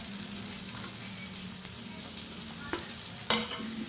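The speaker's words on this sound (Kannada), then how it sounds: "ಇಲ್ಲಿ ಮೀನು ಕೂಡ ಇವಾಗ ಫ್ರೈ ಆಗ್ತಾ ಬಂತು" Fish, a spicy masala-coated fish fry, sizzling gently in a pan: a low, steady frying hiss with a couple of soft utensil clinks near the end, fairly quiet and close, without talking.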